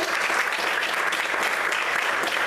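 A church congregation breaks into dense, sustained applause, loud and steady throughout with no voices standing out.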